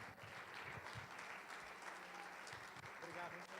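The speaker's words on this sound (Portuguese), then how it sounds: "Aplauda o Senhor" A church congregation claps together in a continuous, even round of applause, heard faintly and at a distance, with a few voices underneath.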